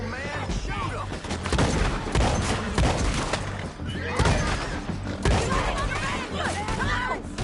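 Gunshots crack through a chaotic Red Dead Redemption 2 town shootout, repeated loud bangs and volleys layered under frantic shouting voices throughout.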